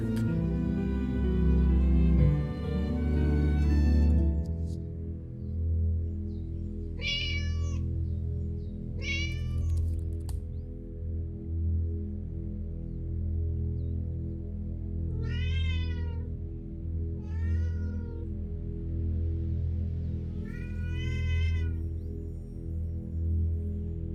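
A cat meows repeatedly indoors, about six drawn-out meows spaced a few seconds apart, moderately close, over a constant low hum and background noise with a rumbling sound fading early on.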